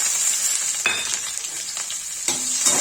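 Steady oil sizzling as cumin and onion fry for a dal tadka, with a couple of brief clinks of a utensil stirring the pan. Close up, no voices.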